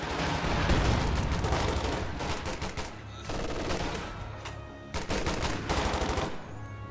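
Machine gun fire in Company of Heroes 2, dense loud bursts of rapid shots with brief gaps, layered with other battlefield gunfire.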